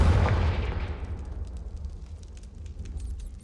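A Confringo fire spell blast in Hogwarts Legacy, a loud booming burst at the start that rumbles and fades into a low crackling tail.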